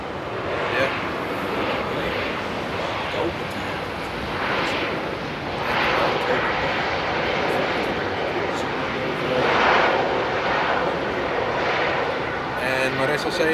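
KLM airliner arriving from Bangkok on approach to a runway at Amsterdam Airport Schiphol, a loud continuous jet engine roar with wind rumble, steady and near throughout, with voices talking over it.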